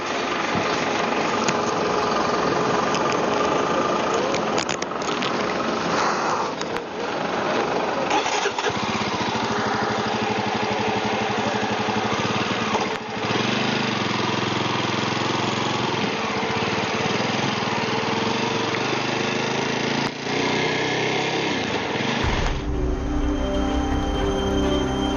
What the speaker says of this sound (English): the army commander is riding an open motorcycle all along this journey